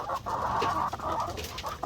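White Leghorn cross Black Australorp hens cluck continuously in a farm pen, a close, loud chorus of overlapping calls with brief pauses.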